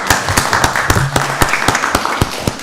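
A round of applause at a county board of commissioners meeting, scattered hand claps ringing out at an uneven pace in a room, fairly close and loud.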